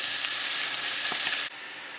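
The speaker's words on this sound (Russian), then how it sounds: "Масло уже нагрелось, и я отправляю весь лук на сковороду." Steady, close sizzling and crackling of onions frying in hot oil in a pan, dropping slightly quieter near the end.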